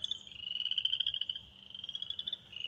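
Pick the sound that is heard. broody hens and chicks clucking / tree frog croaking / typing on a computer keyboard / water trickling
tree frog croaking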